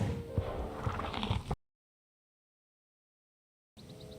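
A horse snorts and shifts close by, with loud rough breathing and hoof movement at first, then silence, and faint stable sounds returning at the end.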